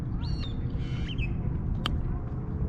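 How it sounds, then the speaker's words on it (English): A duck squawks in a couple of brief nasal calls, with a sharp click near the end, over steady outdoor noise and low rumble on a nature ride in Las Vegas. "Look at this bird. He just walked right up on me."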